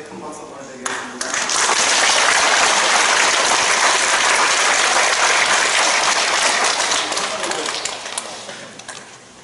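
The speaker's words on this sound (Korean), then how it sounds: "인사할 때 큰 박수 보내드리겠습니다." Loud, sustained applause from a church congregation at an elder and deacon ordination service marking a church's 125th anniversary, dense clapping swelling after a moment and holding steady throughout.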